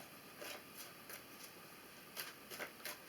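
Tarot cards are shuffled by hand in quiet, faint repeated riffling bursts spaced roughly every third of a second, with a few brisker flurries near the end and no voice.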